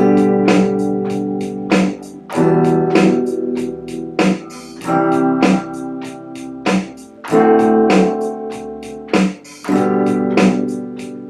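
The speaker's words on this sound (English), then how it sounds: "And if you're playing it with chords, it is going to sound like this." Strummed guitar chords struck once per measure and left to ring, about six hits with regular spacing, loud and close with no voices.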